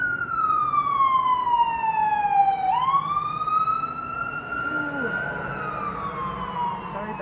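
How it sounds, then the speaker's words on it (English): An ambulance siren passes on a street near an outdoor art show, its wailing tone sweeping down then up again as it goes by, loud and steady over background traffic and crowd noise. "Here comes an ambulance."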